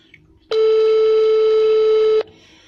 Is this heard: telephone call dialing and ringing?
yes